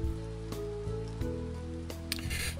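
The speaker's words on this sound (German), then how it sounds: "spaßigerweise höre ich den Regen noch, obwohl ich im Haus bin" Steady in-game rain hisses across the whole stretch in Mana Worlds, layered under sustained music-like tones with a few soft knocks, loud and continuous with no voices.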